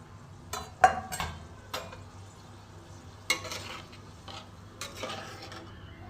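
Fried potatoes dropped into a lightly simmering rohu fish kofta curry gravy in a home kitchen, a quiet bubbling bed punctuated by several sharp clinks and scrapes of a spoon against the pot, close, with no talk.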